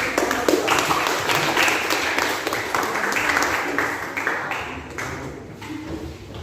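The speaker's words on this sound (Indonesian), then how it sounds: "Berikan tepuk tangan dulu." Students in a classroom applaud after a group's discussion presentation, a continuous mass of clapping hands at moderate loudness, steady throughout and tapering slightly near the end.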